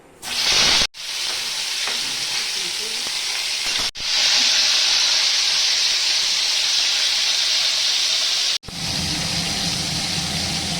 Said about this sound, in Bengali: তেলটা গরম হয়ে গেছে, আমি পটলগুলো দিয়ে দিব।